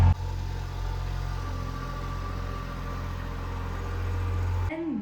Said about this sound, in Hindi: खेत में चल रहा है ट्रैक्टर, मिनी ट्रैक्टर, तो उसकी आवाज़ आ रही है